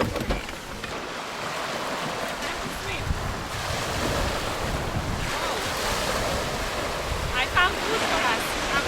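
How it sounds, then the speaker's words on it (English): Atlantic Ocean surf breaks along an African coastline near a town. Waves wash in a continuous rushing roar, mixed with strong gusts of wind buffeting the microphone. "this is it, the Atlantic Ocean off Africa"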